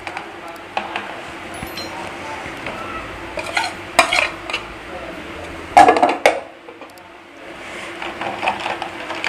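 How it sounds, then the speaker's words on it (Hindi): Spices are stirred into a kadhi pakora mixture with repeated scraping and clinking of a utensil against the vessel, coming in uneven bursts while a person talks. "ये सारे मसाले हम इसके अंदर मिक्स कर देते हैं।"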